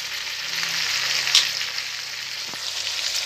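Flat beans with turmeric and chili powder sizzle and fry in a pan while being stirred, a steady hiss broken by a couple of brief scraping clinks. No voices.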